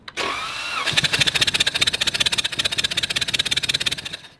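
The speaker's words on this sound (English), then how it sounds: "after changing the oil, let's crank the engine over" A water-flooded car engine is cranked over by the starter after an oil change, an opening whine followed by a fast, even rhythmic chugging of the turning engine, loud and close, never catching.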